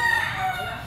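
A Sweater Kelso grey gamecock gives a short, clear crow, heard alone at moderate distance in a brief burst under a second long.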